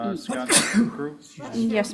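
A single sneeze bursts out amid a public meeting of a historic district commission, loud and abrupt between stretches of nearby conversational speech.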